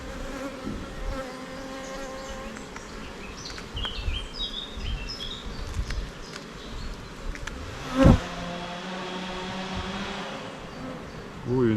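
Honey bees buzzing around an open hive during an inspection, a close, continuous drone with individual bees passing near, a brief knock partway through, faint birds in the background.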